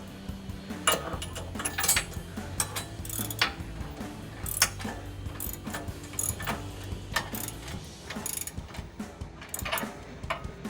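A ratchet tightens a bolt on a Jeep Gladiator rock rail with quick repeated clicking bursts, close and crisp, pausing between strokes in an uneven rhythm.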